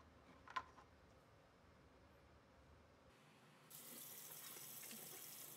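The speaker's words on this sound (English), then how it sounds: "we're just cleaning out the hummingbird feeder with water and some soap" Tap water runs into a sink to rinse out a hummingbird feeder: a low quiet hum gives way to a close, steady hissing spray that starts partway through and continues to the end.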